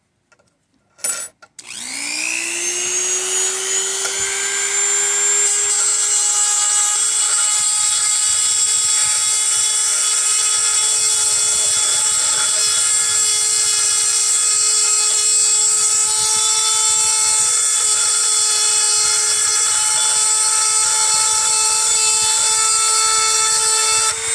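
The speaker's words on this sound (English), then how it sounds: "You just like barely go in with a drill" After a couple of sharp knocks, a high-pitched drill whines steadily and loudly for a long stretch without pause as it drills into a metal fork.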